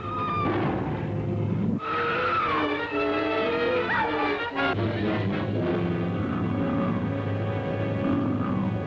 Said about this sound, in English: I think I hear the engine of that damn car